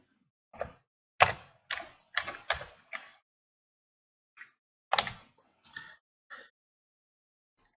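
Irregular clicks of Arduino code being typed on a computer keyboard, arriving in quick bursts of separate close keystrokes with short pauses between them, heard alone.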